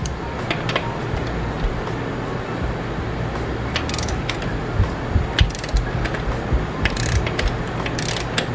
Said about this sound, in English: 22 millimeter gets the rear axle off.